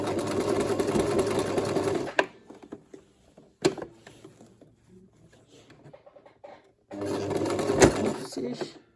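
Sewing machine running in two bursts while top stitching fabric, a steady mechanical whir at the start and again near the end, with a quieter pause between them holding a few clicks and handling noises.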